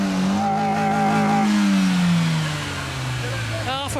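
An engine revs hard at a car meet, a loud rising and falling roar sweeping down in pitch, ending with a sharp squeal as a voice speaks.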